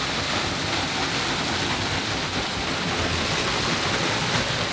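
Steady, dense rush of a waterfall pouring inside a forest cave, even and unbroken throughout, moderately loud and close with no voices over it.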